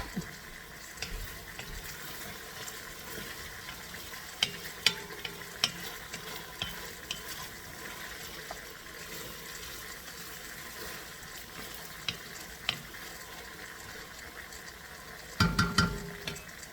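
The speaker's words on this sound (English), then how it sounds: "So now we have to wait till they're done sauteing" Beef stew ingredients, beef with vegetables and spices, sauteing in a pot, a quiet steady sizzle with scattered scraping stirs and a louder clatter near the end, no talk.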